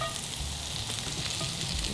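Fresh chopped garlic sizzles steadily in hot blackened butter in a pan, a close, continuous crackling fry with no talking.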